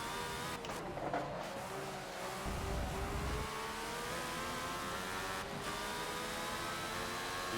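Racing engines in the Forza video game, including a 1976 Ferrari F1 at Laguna Seca, drone and shift pitch steadily as cars brake and accelerate, a continuous moderate mechanical hum without talk.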